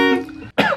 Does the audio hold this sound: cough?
yes